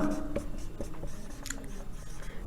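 A short burst of writing on a classroom board during a maths lesson gives quick, close scratching and tapping strokes, with a faint trailing voice at the very start.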